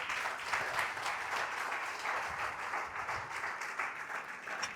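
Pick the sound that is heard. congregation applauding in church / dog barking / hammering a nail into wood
congregation applauding in church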